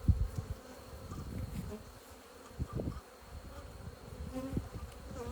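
Honey bees buzzing around an open hive during a winter honey check, a close, fluctuating drone of many insects with individual bees swelling past near the listener.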